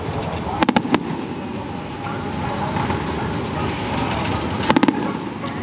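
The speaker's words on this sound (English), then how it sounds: "Oh, fireworks." Distant fireworks pop in two quick clusters of three or four bangs before a NASCAR Pinty's Series dirt race in Oshweken, over a steady outdoor rumble of crowd and traffic noise.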